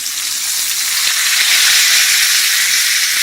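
A beef roast sizzles steadily in a hot pan as it browns, a dense, continuous crackling hiss with no talking.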